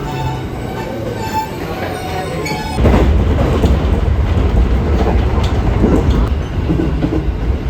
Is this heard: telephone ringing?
no